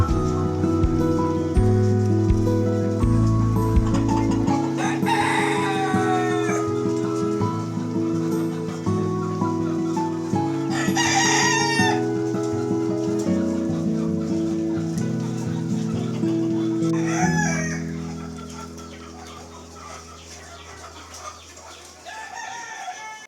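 Elba chickens on a chicken farm in Magelang, with several roosters crowing loudly one after another over steady clucking, while a humming machine drones underneath until it cuts off near the end.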